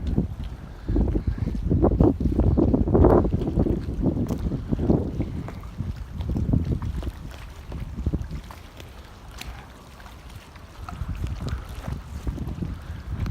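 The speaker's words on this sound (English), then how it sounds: "Windy and cold." Cold wind gusts across the Red Top Mountain boat launching ramp on Lake Allatoona, loud blustery rumbling against the microphone that swells and eases, with faint water sounds beneath.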